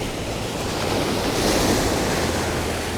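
Ocean waves wash in at the shore as the tide rises, a loud, continuous roar of surf mixed with steady wind buffeting, with no voices.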